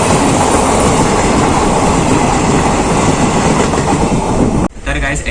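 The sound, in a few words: train passing from the opposite direction at a crossing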